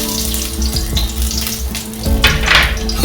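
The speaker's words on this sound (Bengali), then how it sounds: "এরপর আমি রসুন কুচিটা দিয়ে দিলাম" Chopped garlic dropped into hot mustard oil in a pan gives a loud, close, bubbling sizzle that swells toward the end, with no talking over it.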